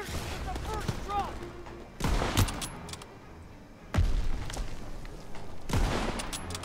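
Gunfire in the World War II shooter Call of Duty WW2, with loud rattling bursts of shots at intervals over a constant din of battle noise.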